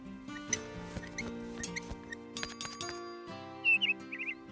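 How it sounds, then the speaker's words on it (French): A cartoon bluebird chirps in a few bright, quick high trills near the end, rising over a sustained orchestral music bed in an animated horse series. "J'adore t'entendre gazouiller."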